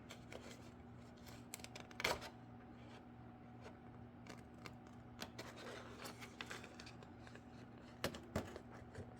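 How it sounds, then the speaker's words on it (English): Quiet, close snipping and rustling of scissors working through paper, in irregular clusters of small crisp cuts over a faint hum. "we'll need to go in with our scissors and cut that corner"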